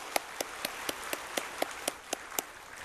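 A church congregation at a Sunday worship service claps in a steady, even rhythm, about ten crisp claps over soft room ambience.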